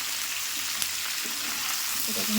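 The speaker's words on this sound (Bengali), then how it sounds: "ভালো করে কষে নেবো ফুলকপি দিয়ে শিম দিয়ে টমেটো দিয়ে" Cauliflower, green beans and tomato sautéing with salt and turmeric in a pan give a steady close frying sizzle with occasional stirring scrapes and no talk.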